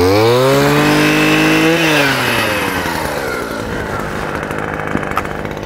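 A Stihl brushcutter with M-Tronic electronic engine management runs close and loud, revving high, briefly climbing in pitch and then settling down into a rough, buzzing idle.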